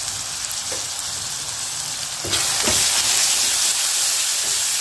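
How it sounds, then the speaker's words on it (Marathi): Chopped onion with ginger and turmeric frying in a pan for an idli Maggi masala, a steady hiss that swells louder midway with a few stirring clicks, close and unbroken. "कांदा सोनेरी कलर येईपर्यंत भाजून घेऊया"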